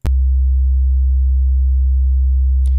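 A steady, undistorted simple test tone plays as the original reference, one low pure pitch held evenly and loudly throughout after a click at the start.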